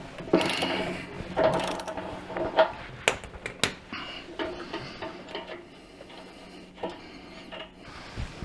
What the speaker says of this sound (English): Let's go ahead and break this axle nut free.